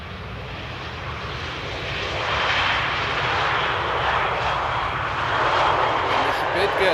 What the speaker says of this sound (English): Easy landing there.